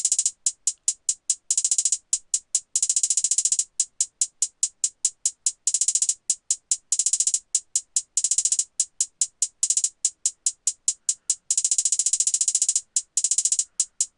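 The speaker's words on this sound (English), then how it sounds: "I just added in a bunch of rolls. The rolls are very important" Rapid hi-hat rolls in a futuristic trap-style beat, bright crisp ticks firing in fast bursts and stuttering runs with brief gaps, steady and loud throughout, alone without speech.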